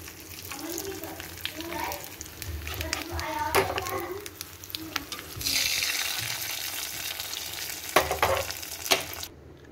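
Hot tempering of oil, spices and curry leaves hits mango fenugreek dal in a home kitchen and erupts into a loud sizzle midway through. Stirring noises and children's voices come before it.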